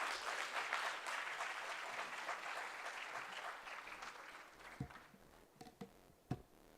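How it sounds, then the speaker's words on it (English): An audience at the inaugural session of a women chartered accountants' conference applauds the chief guest, the clapping loud and dense at first, then thinning out to a few scattered claps at the end. "Can we have a powerful and big round of applause, please?"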